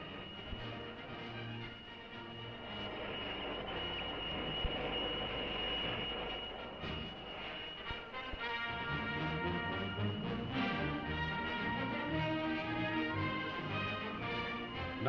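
RAAF squadron aircraft taking off from an air base drone with a steady, loud engine roar and a high whine, heard in an old newsreel soundtrack with no narration over it.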